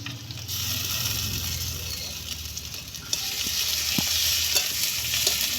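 Onion frying with ginger-garlic paste and cumin paste for a mutton and wild hog plum curry, a steady close sizzle with stirring scrapes and a brief louder crackle partway through.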